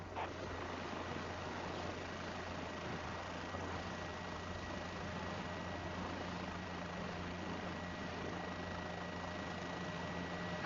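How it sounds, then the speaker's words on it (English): Helicopter hovering in Microsoft Flight Simulator during rotorcraft training, a steady continuous rotor and turbine drone with a constant low hum, even and unbroken, with no talking. "You have full control on the helicopter, and you are hovering all by yourself."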